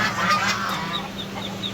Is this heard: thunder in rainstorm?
no